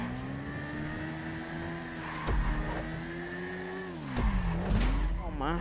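A race car engine in a GTA street race holds a steady mid-pitched drone, with gear shifts, bumps and a late rise and fall in revs, loud and near while a voice talks over it.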